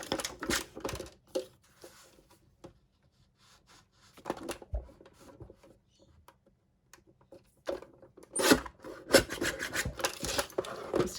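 A paper cutter with a dull spot on its blade cuts paper for a folio, giving close, scraping, rasping strokes in short bursts separated by quiet pauses.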